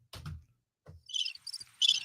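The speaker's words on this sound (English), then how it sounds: "Where's my crickets?" Cricket chirping sound effect, a few short, bright trilled bursts in quick succession, following two low thuds near the start.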